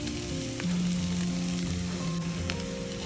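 Spiced potato and beef cutlet mixture fries in a pan with a continuous, close sizzle and crackle, punctuated by a few scraping clicks of stirring, with no voices.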